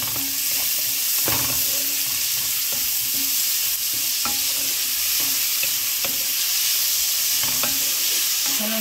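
Garlic and onion frying in oil for a taro leaf curry, a steady loud sizzle throughout with occasional clicks of stirring against the pan.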